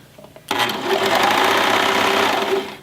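A sewing machine runs stitches off the edge of the fabric: a sudden start into a loud, close, continuous whirring buzz that holds steady for about two seconds before winding down.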